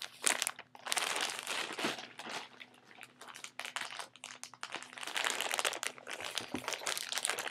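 Plastic and paper packaging crinkles and tears as a Club Nintendo reward package is opened, close-up bursts of crumpling and crunching with brief pauses between handlings.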